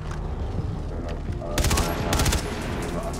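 Gunfire in the game Far Cry 3 Blood Dragon: a rapid burst of loud automatic shots over a steady game soundscape, with a second tight volley near the end.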